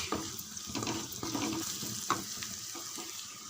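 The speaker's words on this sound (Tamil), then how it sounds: "ஒரு 2 நிமிஷம் நல்லா வதக்கி விடுங்க" Spices sauté in a pan for egg masala, giving a continuous close sizzle and frying hiss, with occasional scraping stir sounds and no talk.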